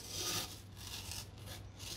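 A handsaw cuts through a thermal insulation panel with steady rubbing, rasping strokes that come close and loud in a continuous back-and-forth.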